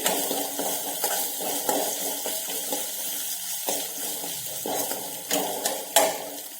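Spices and asafoetida sautéing in hot oil in a pan make a steady, close sizzle, with repeated scraping and stirring strokes throughout.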